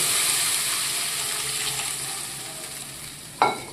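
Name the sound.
oil and water added to fried spice paste, sizzling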